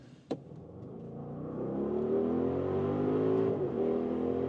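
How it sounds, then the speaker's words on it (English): A 2025 Audi RSQ8 Performance accelerating hard, heard from inside as the engine note climbs in a loud, rising drone after a brief thump, holding strong before easing off slightly at the end. "one more time, hard on the gas"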